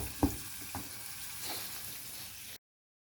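Chopped onion fries in a pan with a constant close sizzle and a few soft stirring knocks before the sound cuts off abruptly.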